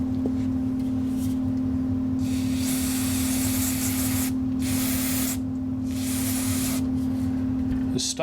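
Several short bursts of electronics wash cleaner are sprayed from an aerosol can onto a circuit board to break down flux, each a close, sharp hiss over a steady electrical hum, with pauses between the sprays.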